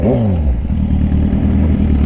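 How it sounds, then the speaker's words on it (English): A stalled motorcycle being push started downhill, its engine catching and revving loudly with a rising then steady mid-pitched roar and some clatter, close and continuous throughout. "Did it die or did it stall? It stalled and I couldn't start it."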